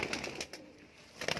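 Pigeons, flying breeds kept for sale, coo and call in a few soft bursts at close range, with quiet gaps between the calls.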